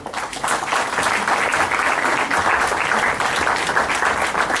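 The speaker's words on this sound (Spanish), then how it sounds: "Le damos un aplauso a los dos, por favor." A seminar audience breaks into sustained applause, a dense, even wash of many hands clapping that starts abruptly and holds steady at full strength until the end.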